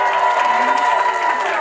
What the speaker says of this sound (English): Big round of applause if you're from Boise.